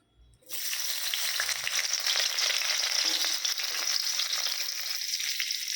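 Steady, loud sizzling of onion frying in hot oil, beginning abruptly after a brief quiet moment and continuing evenly without any talking.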